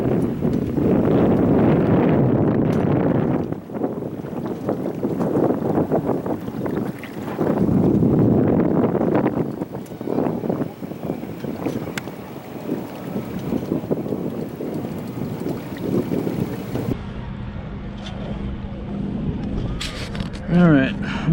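Catalina 22 sailboat sailing at night, a steady rush of wind buffeting the microphone over water noise, with a person talking throughout.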